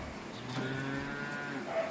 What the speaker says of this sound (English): if Ty don't spook the cow too much